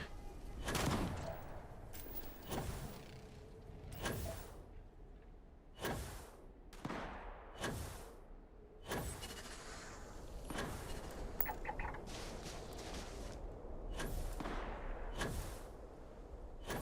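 Repeated gunfire at large creatures in the sci-fi video game Starfield, sharp shots cracking out every second or two over a steady rumbling game backdrop.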